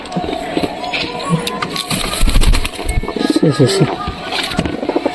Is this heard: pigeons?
yes